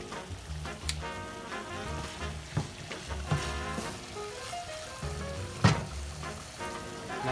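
Shrimp sizzling and frying in a hot pan, a steady crackling hiss with occasional louder pops and spatters, close and continuous without talk.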